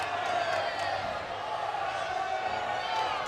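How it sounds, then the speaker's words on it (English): A college wrestling crowd in Illinois applauds and cheers in a steady, continuous roar, with an announcer commentating over the noise throughout. "he brings this crowd into a well-deserved applause"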